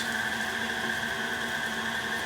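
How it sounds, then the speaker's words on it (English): A food processor grinds ground beef with onions and garlic in a steady, continuous whirring drone that stays loud and unbroken from start to finish, with no voices over it. "Just process your onions and your garlic in the food processor and mix it with your ground beef."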